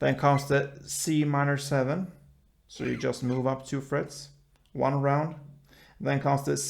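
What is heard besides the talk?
No everyday noise stands out behind the speech.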